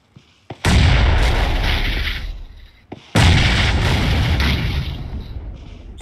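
Two heavy grenade blasts go off in PUBG Mobile, each a sharp boom followed by a long rumbling decay, loud and close, with a small pop just before each.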